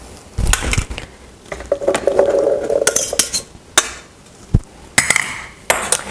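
Hard cooked chickpeas rattle and clatter into a blender in a few separate bursts, with scattered clinks and a short scraping stretch between them.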